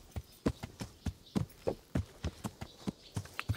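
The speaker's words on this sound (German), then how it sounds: "aber das Pferd ist ein bisschen dominanter" Horse hooves clip-clop in the medieval video game Kingdom Come: Deliverance, a rapid irregular run of sharp close hoofbeats, with two overlapping hoof sounds making the pattern uneven.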